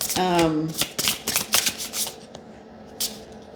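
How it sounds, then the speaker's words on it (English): Cards are riffled and shuffled in quick bursts of crisp flicking and snapping, close by, with a voice speaking briefly at the start. "That was just a bad shuffle."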